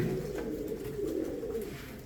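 Pigeons cooing steadily at close range, a continuous low murmur of overlapping coos from a flock of show birds, with no talk.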